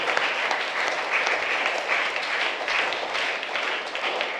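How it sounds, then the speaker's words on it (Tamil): A church congregation at a novena Mass in Sathampatti applauds to welcome a priest, sustained loud clapping from many hands filling the space without pause. "அருள்பணி எஃப் பவுல் கிறிஸ்டோப் அவர்களை வருக வருக என்று கைத்தட்டி நாம் வரவேற்போம்."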